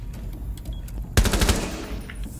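Burst of rapid automatic gunfire in Rainbow Six Siege on the Yacht map, loud and close, cutting in after quieter in-game ambience and fading into a ringing tail.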